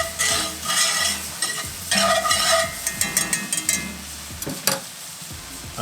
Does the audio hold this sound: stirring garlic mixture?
yes